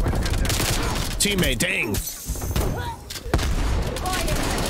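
Rapid bursts of gunfire from a Hauer 77 loadout in the video game Call of Duty: Black Ops Cold War, loud and close, with a player talking over the shots.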